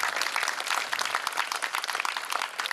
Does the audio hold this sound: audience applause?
yes